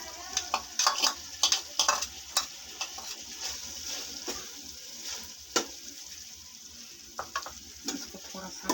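Chicken being added and fried with softened vegetables in a pan for macaroni: a quiet, crackling sizzle with frequent clattering stirs and scrapes of a spatula, irregular and close, no voices.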